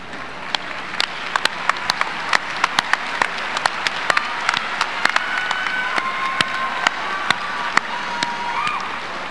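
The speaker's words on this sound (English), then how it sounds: "join me for a well-deserved round of applause for our outstanding faculty and staff" Graduation audience giving a round of applause for faculty and staff, a broad steady crowd clapping with sharp individual claps popping out close by, plus scattered cheers and a few whistles rising over it.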